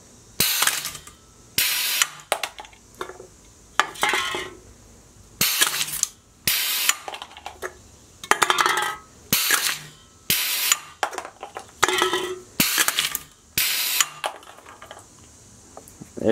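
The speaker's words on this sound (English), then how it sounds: "There you see, crushes the cans pretty good." Pneumatic can crusher running on an air compressor at about 90 psi, flattening aluminum cans: a series of loud, sharp hissing and crunching bursts roughly every second or two, separated by brief quiet gaps, with no talking.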